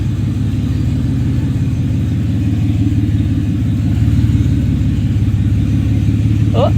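A Mitsubishi Montero runs while backing up in reverse, with a loud, close, steady low engine rumble and a slight rise in level partway through, and no talking.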